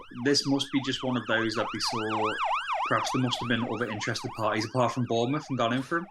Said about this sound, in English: That was the ambulance coming for you.